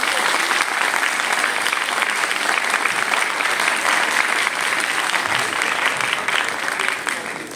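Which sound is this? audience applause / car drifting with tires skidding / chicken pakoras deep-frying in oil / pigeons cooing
audience applause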